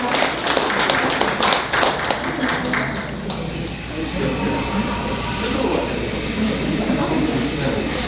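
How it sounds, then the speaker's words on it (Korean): Audience applause at an award ceremony during a regional community social-security council conference, a burst of many hands clapping loudest at the start, then settling into a softer, murmuring crowd noise. "네, 여러분 박수 부탁드립니다."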